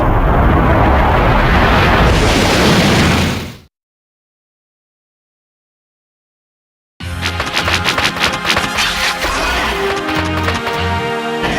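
A boss's explosion attack in Megaman Maverick Hunter X: a loud, roaring burst that cuts off into several seconds of silence, followed by a rapid, rhythmic crackle of repeated blasts.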